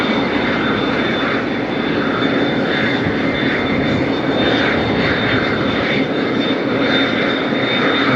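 A turbojet aircraft takes off in gusty crosswind conditions at Las Vegas, its engine roar loud, steady and continuous throughout, with a sustained high whine over broadband rumble and no talk.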